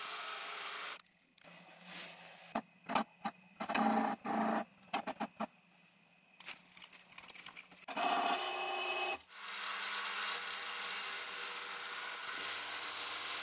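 A CNC machine mills a test pattern into a plate, giving bursts of whirring, buzzing cuts broken by short pauses, then a steady loud machining drone through the last few seconds, with no talking.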